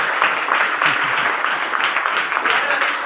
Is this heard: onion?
no